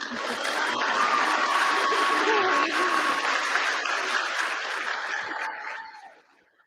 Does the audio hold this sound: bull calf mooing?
no